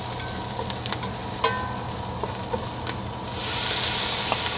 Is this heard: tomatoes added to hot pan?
yes